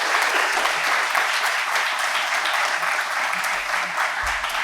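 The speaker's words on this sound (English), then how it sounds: "Let's give them a round of applause." Audience applause at a debate night, a steady, dense wash of clapping that fills the whole stretch evenly and sounds like a full room rather than a few hands.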